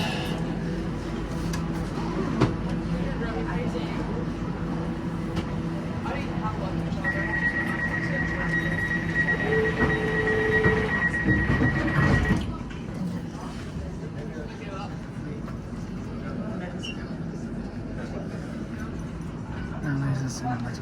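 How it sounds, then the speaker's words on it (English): Interior of a new Elizabeth Line train running toward Paddington in London, a steady rolling rumble with a brief whining tone midway before the noise drops as it slows, and a voice speaks throughout. "Now these are the new trains that operate on the"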